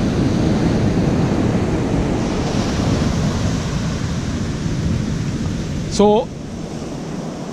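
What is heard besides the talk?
ocean waves at a Sri Lanka resort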